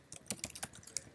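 Quick, light keystrokes on a computer keyboard, about eight soft clicks in an uneven burst, faint and close with no voices.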